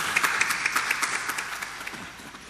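Scattered audience clapping at a spiritual discourse gathering, a run of quick overlapping claps that thin out and fade over a couple of seconds, no voices.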